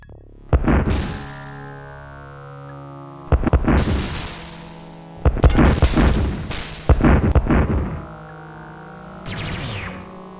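Enemy structures blow up in the real-time strategy game Dune 2, heard as a series of loud, heavy synthesized booms, each with a long ringing, descending tail and short silences between them.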